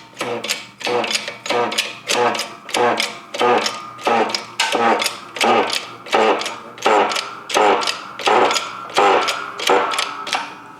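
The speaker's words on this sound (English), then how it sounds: "We're going to press both in at the same time." A press forcing bearings onto both ends of an RZR transmission shaft at once, producing a steady series of about a dozen loud, evenly spaced rhythmic clunking strokes, close up, with no speech.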